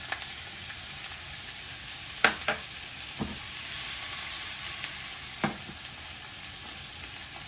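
Onions and cranberries sizzle steadily in a pan, close and continuous, with a few sharp stirring clatters and utensil knocks breaking through; no talking.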